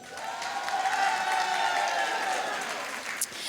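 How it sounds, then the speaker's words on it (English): An audience at a senior comedy show breaks into applause, a sustained wash of clapping mixed with some crowd noise, heard at moderate distance and holding steady for several seconds. "let me hear you by a round of applause"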